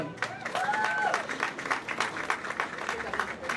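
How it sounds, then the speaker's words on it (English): Crowd applause at an outdoor housing and shelter funding rally, scattered claps and cheers building and thinning, with a voice speaking over it at the start. "You deserve a big round of applause."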